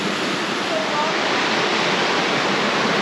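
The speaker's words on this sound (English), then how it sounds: "we just went through the waterfall, the first one" Waterfall in Panamint City canyon, a steady close roar of rushing water that fills the whole stretch at loud volume.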